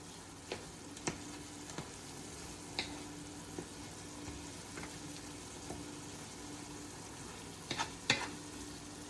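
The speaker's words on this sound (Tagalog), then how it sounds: "I-check natin yung ating ginisang kamatis mga boss." Tomatoes sauté quietly in a pan, giving a soft, steady sizzle broken by occasional clicks and scrapes of stirring.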